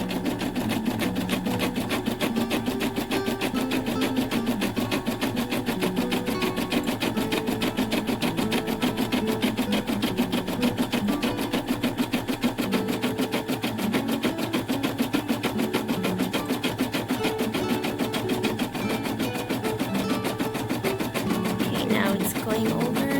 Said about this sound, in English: Going over to make the thicker satin stitch all the way around.